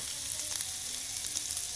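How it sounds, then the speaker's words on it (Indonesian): Meat grilling on a barbecue, cooking until browned, gives a steady hissing sizzle with soft crackles, fairly quiet and constant throughout, with no talking. "Kita panggang semuanya guys, dagingnya guys, sampai kecoklatan guys"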